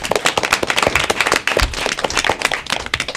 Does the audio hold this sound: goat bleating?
no